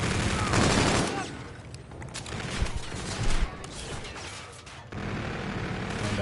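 Rapid bursts of gunfire and automatic weapon fire in a video game match play at moderate level, with irregular shots and booms scattered through, and commentary underneath.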